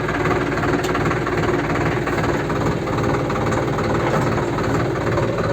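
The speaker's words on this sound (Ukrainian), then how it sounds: "Включаємо вал отбора." A Solis RX50 tractor engine runs steadily with its PTO shaft engaged, a loud, continuous low diesel rumble and vibration with no pauses throughout.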